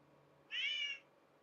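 A single cat meow, clear and fairly close, rising and holding for about half a second over a quiet indoor background with no talking.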